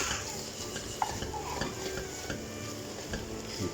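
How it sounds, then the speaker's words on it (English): Spoon scraping and stirring tomato puree around a frying pan during spaghetti bolognese prep, soft scrapes and clinks with a faint sizzle underneath, close and steady, no voices. "give that a good stir, and then we'll go in with probably about 2 tablespoons of tomato puree."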